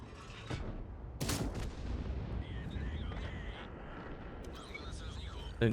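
Tank cannon firing in World of Tanks, a sharp boom followed by a long rumbling echo amid battle noise.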